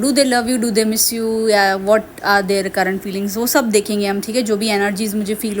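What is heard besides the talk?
No distinct noise like a dog, phone or traffic.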